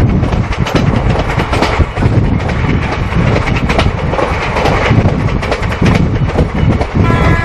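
An old Samta Express passenger train rolls into a station platform in Odisha or Andhra. Dense, loud rattling and clattering of carriages continues throughout, with faint horn-like tones.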